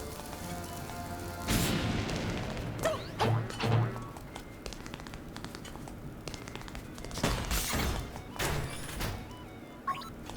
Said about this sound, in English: I just like using the bombs.